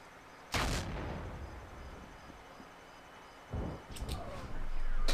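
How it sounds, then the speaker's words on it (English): A grenade blast in a first-person shooter lands as a sharp, loud boom with a rumbling tail, followed seconds later by another burst and crackling gunfire-like pops over steady game background noise. "Pretty sure they heard that nade kind of hit me as well, which hurt me a little bit."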